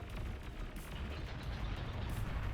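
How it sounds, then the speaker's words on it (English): Bombs dropped by bombers exploding in the real-time strategy game Beyond All Reason, a dense rumbling roar of blasts and booms with two sharper bursts, continuous and loud, without talk. "Oh, still bombs manage to drop in time."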